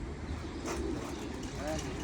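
Homing pigeons coo softly inside a loft in Kahramanmaraş, low murmuring calls set under ongoing talk and faint background noise.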